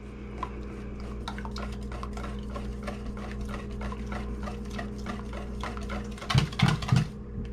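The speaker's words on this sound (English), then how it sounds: "Now we're going to whisk this together." Whisking a flan custard mixture in a bowl: a steady run of quick, regular clicking taps from the whisk, close and fairly even, ending in a few louder scraping strokes.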